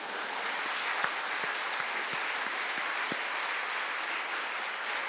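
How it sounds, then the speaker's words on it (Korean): Congregation in a church Sunday worship service applauding after a hymn performance, a steady sustained wash of many hands clapping with no talk over it. "박수 한번 해주세요"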